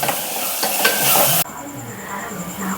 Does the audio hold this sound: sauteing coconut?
yes